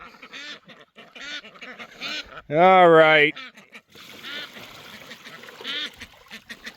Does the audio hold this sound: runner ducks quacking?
yes